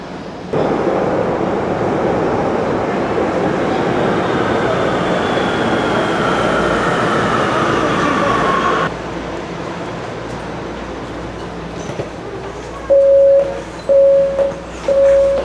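A metro train rumbles along steadily with a loud, continuous roar, then the noise shifts and a repeating chime sounds near the end.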